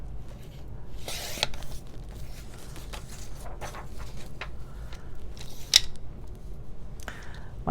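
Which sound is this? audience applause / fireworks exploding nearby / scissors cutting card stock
scissors cutting card stock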